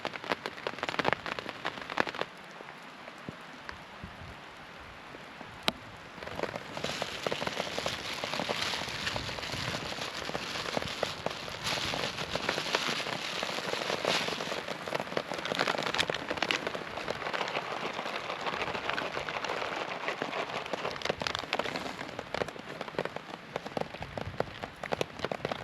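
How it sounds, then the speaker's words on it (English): Steady rain patters on a camping tarp overhead, a dense continuous hiss of drops with occasional louder taps, close and enveloping, with no talking. "Rain coming down on the top"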